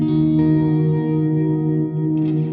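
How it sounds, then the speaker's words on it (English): A distorted electric guitar chord sustains through a Fender Hammertone Reverb pedal, its long reverb tail washing on steadily with a second note picked near the end, loud and close. "as I bring that in, we can hear the reverb tail getting longer there."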